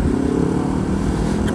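Motorcycle being ridden, a continuous close engine drone with wind rumble, steady and loud throughout with no break.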